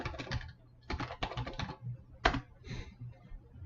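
Clicks of a computer keyboard as a sheet tab name is typed in a spreadsheet: several bursts of quick, close keystrokes come with short pauses between them, over a faint steady hum, and no one speaks.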